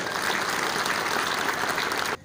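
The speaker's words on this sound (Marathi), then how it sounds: "साहेबांसाठी जोरदार एकदा टाळ्या होत्या" An audience in a lecture hall applauds a speaker at a festival lecture series, with dense, steady clapping that holds loud and even for a couple of seconds before cutting off abruptly, and no voices over it.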